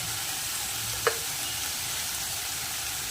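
Masala spice paste fries and sizzles steadily in a pan, a continuous close hiss with one brief clink of stirring partway through and no voices.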